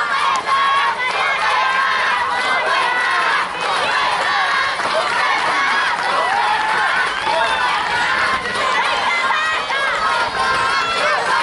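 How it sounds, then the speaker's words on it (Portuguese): Crowd at a women's softball game between Maringá and Nikkey Curitiba cheers and shouts loudly and continuously, high-pitched voices yelling over a dense roar throughout. "Aí, torcida nas orelhas da arremessadora."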